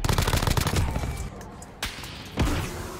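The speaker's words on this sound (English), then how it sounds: "I'm getting sniped at." Rapid automatic gunfire from Call of Duty on Rebirth Island in a zombie mode: dense bursts of shots fill the first second, then two heavy single booms land loud and close.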